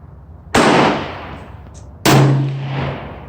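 Two sharp, loud rifle shots from a TC Compass in 6.5 Creedmoor fitted with a muzzle brake, fired at a 100-yard target outdoors, each a sudden blast with a ringing decay, roughly a second and a half apart.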